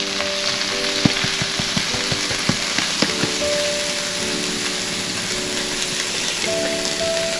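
Green onion and fenugreek leaves drop into a hot pan, setting off a steady close sizzle with a run of sharp clicks and taps from a spoon early on, then a constant frying hiss.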